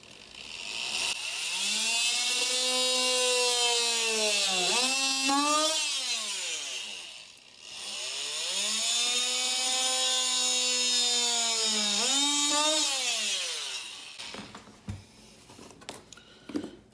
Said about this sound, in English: Or you can just freehand that last tab with your multi-tool.